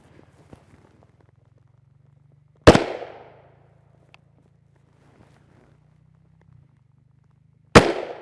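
A 5.7x28mm round loaded with a 40-grain Hornady VMAX bullet is fired from a 16-inch barrel at a gel test, and two sharp, loud cracks ring out several seconds apart, each followed by a short decaying tail in an otherwise quiet outdoor setting.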